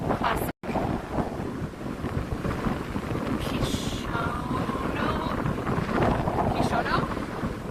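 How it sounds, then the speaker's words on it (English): Strong spring wind in Washington DC blusters steadily across the microphone with a roaring, buffeting rumble that continues throughout, partly under a voice talking. "it's getting even windier"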